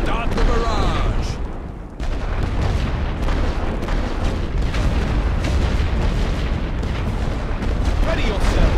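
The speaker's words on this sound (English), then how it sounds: "Start the barrage." A World War I artillery barrage fires in The Great War: Western Front, a dense, continuous rumble of distant booms and blasts rolling without pause, loud throughout with a brief dip partway.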